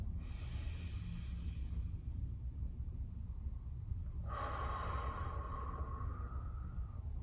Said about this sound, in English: One more big belly breath.